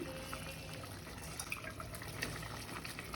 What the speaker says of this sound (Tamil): இப்போ பாஸ்மதி அரிசியை சேர்க்கணும் இதோட கலந்து